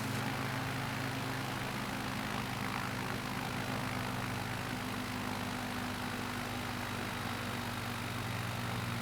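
A single-engine bush plane in Microsoft Flight Simulator 2020 drones steadily in flight, a constant loud propeller engine hum with a broad airy roar and no change in pitch, no voices.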